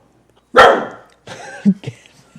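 A dog barks at the back door indoors, one loud close bark followed by a couple of shorter, quieter yips with a pause between.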